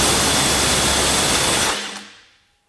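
Ryobi P262 18V one-plus cordless 1/2-inch impact wrench hammering loudly and steadily to break a fastener loose, then spinning down and fading to quiet near the end.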